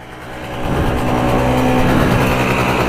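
A Rokon 2x2 motorcycle engine catches after a flooded start and runs steadily, its rough mechanical drone swelling in loudness over the first half second and then holding close and continuous.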